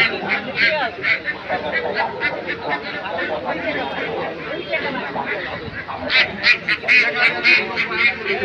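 Ducks and ducklings quack repeatedly at a busy duck market, the calls fairly close and layered over a steady crowd hubbub, with a louder burst of quacking near the end while people talk throughout.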